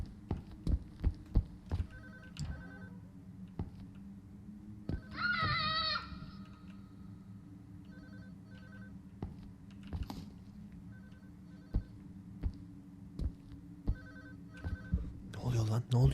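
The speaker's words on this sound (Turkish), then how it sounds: "Telefon çalıyor." Telephone ringing in a video game, faint repeated ring bursts under clicks, thumps and keyboard-like tapping, with a brief louder electronic chirp and a voice present at times.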